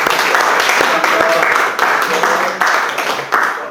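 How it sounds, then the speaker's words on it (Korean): Small group in a church room applauding a pastor after a Bible study session, a steady crackle of clapping from several people that holds throughout with slight dips, mixed with some voices. "우리 한번 강 목사님 박수 치고"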